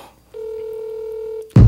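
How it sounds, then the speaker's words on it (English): A telephone emits one steady keypad tone held for about a second, clean and close, followed by an abrupt loud burst of noise at the end. "Let me dial Tone back."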